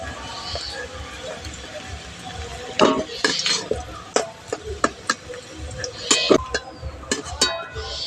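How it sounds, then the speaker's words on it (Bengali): Fried potatoes being lifted out of hot oil in a pan, with clinks and scrapes of a metal utensil against the pan over a low sizzle, while a voice speaks at times. "আলুগুলো ভেজে নিয়েছি। আলুগুলো এবার তুলে নিচ্ছি।"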